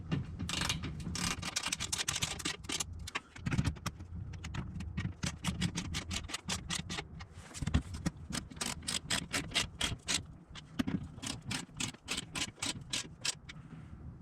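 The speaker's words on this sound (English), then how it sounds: "you'll just want to snug those 4 bolts down with your socket and ratchet." A socket and ratchet snug down four small bolts holding a plastic skid plate on a 6.4L HEMI vehicle, giving rapid repeated pawl clicks in bursts, close and fairly quiet, with no talking.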